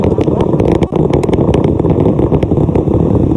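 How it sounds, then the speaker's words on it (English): Artemis I rocket core stage engines at maximum thrust give a loud, continuous, dense roar that holds steady throughout with no voices. "4 core stage engines are back at maximum thrust."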